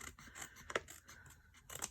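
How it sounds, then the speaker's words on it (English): Scissors cut through paper cardstock in a few quiet snips and scraping strokes, close by and faint, with short pauses between cuts. "You just take your scissors"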